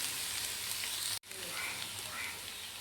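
Moringa leaves and browned onions stir-fry in a pan for a Kerala-style thoran, giving a steady close sizzle with one brief cut-out.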